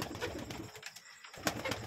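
A Shirazi pigeon coos in a hobby pigeon loft, soft repeated calls set against a busy, rustling background with a brief quiet gap midway.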